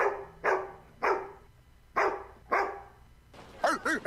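A police K9 dog barks at a police chase stop, giving about six sharp, loud barks in an uneven rhythm, close by, with a quicker burst of yips at the end.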